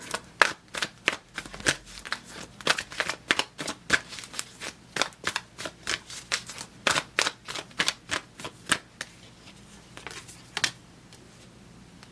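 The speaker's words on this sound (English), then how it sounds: "We're going to be laying out a few cards here." Crisp card snaps and flicks land one after another in an irregular rhythm, close and fairly loud, with brief pauses between placements and no talking.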